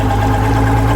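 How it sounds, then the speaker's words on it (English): A 2007 Mercury 135 Optimax outboard engine, with a newly replaced poppet valve after overheating, runs at a steady idle. The hum is loud, close and unbroken, with no other sounds. "the engine's been running for about 15 minutes and no more steam all over the place"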